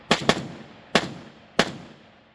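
An AK-47 firing 7.62x39 rounds at an outdoor range: four loud, sharp shots, the first two in quick succession and then two more spaced about half a second apart, each with a short fading tail.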